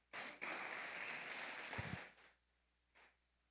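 A church congregation bursts into applause, a faint, dense wash of clapping lasting about two seconds, then a short final burst of claps.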